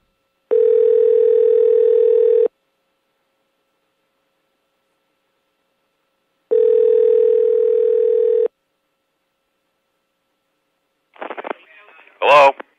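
Telephone dial tone after a caller hangs up, two steady two-second tones separated by silence, followed by a brief burst of clicks and a short muffled sound at the end.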